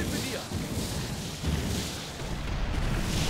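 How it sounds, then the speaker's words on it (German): Dense, rumbling booms roll continuously like an explosion in the game Elex, with voices faintly mixed into the noisy blast. "Ja, gute Explosion"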